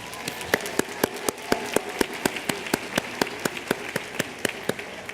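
A commencement audience claps in a sparse, evenly spaced rhythm, each sharp clap distinct against a quiet room, rather like slow rhythmic applause from a few hands.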